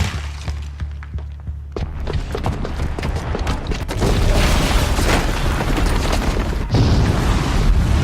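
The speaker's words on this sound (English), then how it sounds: "the booby trap on the bomb downstairs is gonna get set off" A booby-trapped bomb goes off in Horizon Zero Dawn, a loud rumbling blast that swells after a burst of clicks and thumps and holds as a sustained roaring wash of debris to the end.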